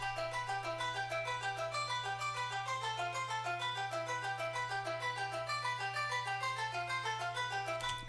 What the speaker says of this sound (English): I did put this like little chime things, and I believe, yes, I did put an arpeggiator on it